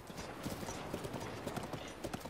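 Hooves of a horse galloping in The Legend of Zelda: Breath of the Wild beat a quick, even clip-clop rhythm, fairly faint and steady throughout, with no voices.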